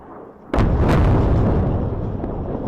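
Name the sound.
airstrike explosion in Beirut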